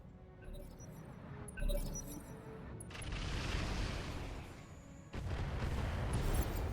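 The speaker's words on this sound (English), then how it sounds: "Engine kit explosion." Mech engine explosion in the video game RogueTech, a sudden loud burst near 1.7 s followed by a sustained roaring rumble and a second heavy surge of blast noise toward the end.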